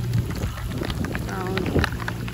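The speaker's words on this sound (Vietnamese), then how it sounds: "Mưa rồi. Mưa luôn rồi." Rain begins falling outdoors in rural Đồng Tháp fields during the early flood season, with a steady, dense patter that holds at an even level throughout.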